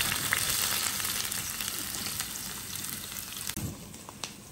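Onion frying in mustard oil for tomato-onion chutney: a loud, dense, continuous sizzle close up, with a few faint clinks near the end and no voices.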